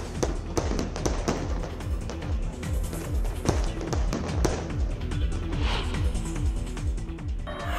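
Fireworks burst at the Golden Temple in Amritsar during Guru Nanak Jayanti celebrations, with rapid irregular crackling pops and thuds going off in dense volleys throughout.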